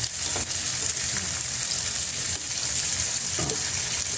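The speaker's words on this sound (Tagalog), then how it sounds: "So, let it simmer." Bagoong alamang shrimp paste with tomatoes simmers and sizzles steadily in a pan, close and continuous, with a few soft stirring scrapes.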